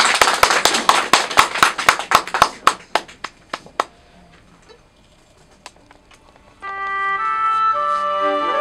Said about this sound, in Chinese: 好，先给我来点掌声